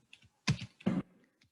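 A few quick keystrokes on a computer keyboard while writing C# code, two louder clustered clacks and some faint taps, close and quiet.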